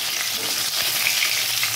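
River fish frying hard in hot oil, a steady close crackling sizzle holding loud and even from start to finish with no talking.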